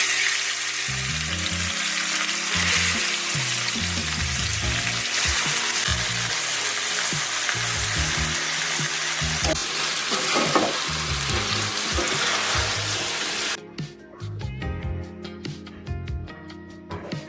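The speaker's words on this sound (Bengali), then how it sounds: "আমি মাংসটা দিয়ে দিচ্ছি।" Meat sizzles loudly and steadily in a hot pan with occasional clatter of stirring, then the frying drops away near the end, leaving quieter clinks.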